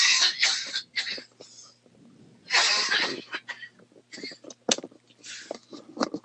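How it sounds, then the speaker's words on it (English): A person coughs close by indoors, several harsh bursts in clusters with quiet gaps between them. "Hold on, I have to cough."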